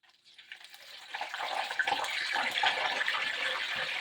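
Chicken pakoda fries in hot oil, giving a steady, hissing crackle that builds within the first second and holds as a dense, close sizzle with no voices.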